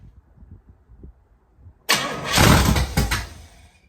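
A 1968 Pontiac Firebird with a freshly rebuilt carburetor stays quiet for a moment, then its engine suddenly fires up and catches, surging loudly into a rough, revving idle close by.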